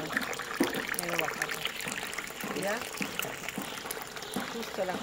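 Water pours and trickles out of a cut bamboo node in a forest, a splashing, gurgling stream heard close up under a voice talking.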